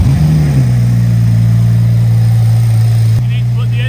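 A rebuilt Rolls-Royce Wraith engine catches in a workshop, then settles into a steady, loud, deep idle that hums on evenly for several seconds.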